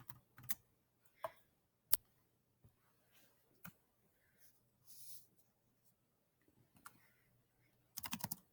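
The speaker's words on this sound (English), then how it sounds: "let me type it." Scattered computer-keyboard keystrokes in short irregular bursts, fairly quiet in a still room, ending in a denser flurry of keys.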